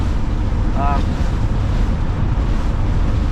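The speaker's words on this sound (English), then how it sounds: "Man, is it windy today." Strong wind buffets the microphone with a constant loud roar and rumble, steady throughout, with a brief faint tonal sound briefly rising over it.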